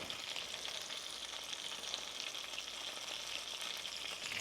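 Chicken sizzles and fries in butter in a pan with a constant crackling hiss, close and even throughout, with no voices.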